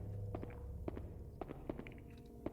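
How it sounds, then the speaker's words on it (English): Footsteps in the PS2 survival-horror game Haunting Ground: several soft, irregular thuds spread across the moment, fairly quiet over a low ambient hum, with no talking. "I thought I heard footsteps."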